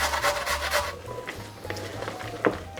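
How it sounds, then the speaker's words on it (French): A carrot being grated on the large holes of a coarse grater straight into a salad: steady rhythmic rasping strokes, close and fairly loud at first, then easing into lighter, scattered scrapes with no talking. "Je vais prendre la râpe à gros trous et ma carotte, et puis je vais râper directement dans la salade."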